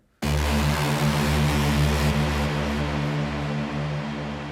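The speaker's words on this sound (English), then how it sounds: "I'm mainly going to focus in this video, like I said, on the Techno Stab or Techno Horn" Soloed techno stab, or techno horn, patch built in Serum, a dense buzzy chord that starts abruptly and sustains loudly through the clip with a steady, rich harmonic wall and no voices.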